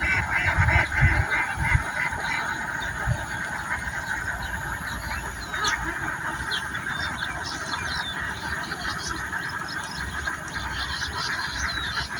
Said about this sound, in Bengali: এই ছোট্ট ভাসমান হাঁসের খামারটা